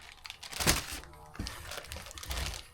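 Packing material crinkles and crackles up close while a car shifter is unboxed, with a sharp tearing rustle early, then irregular rustles and thumps.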